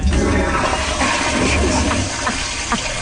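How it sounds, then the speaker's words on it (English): A toilet flush used as a sound effect: a loud, close gush and swirl of draining water that tapers off over a few seconds. "put that flushing sound effect in every once in a while"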